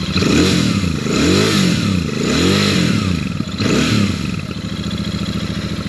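A nearby Royal Enfield Shotgun motorcycle engine rumbles and revs in a few swelling pulses, then settles into a steady low idle.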